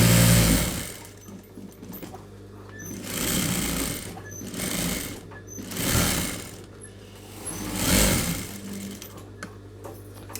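Sewing machine stitching a blouse patch onto its lining, a steady motor whir rising into four louder stitching bursts with short easing pauses between them, close up and without talk.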